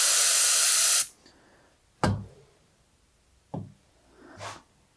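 Air is let out of a pit bike tire in a loud sustained hiss that cuts off after a second, followed by a few short bursts of release with quiet gaps between them.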